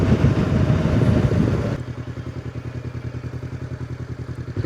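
A motorcycle rides through gravel in Clackmannanshire, a loud rough crunching roar that drops to a steady, rhythmic engine pulse.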